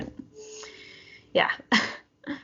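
A single sharp sneeze bursts out during a quiet indoor conversation, followed by a short spoken reply.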